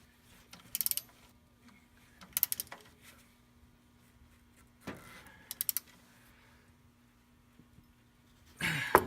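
A Craftsman flex-head 3/8-drive ratchet tightening a tension bolt on an alternator belt setup, short bursts of rapid clicking repeated several times with quiet pauses between, close and fairly faint.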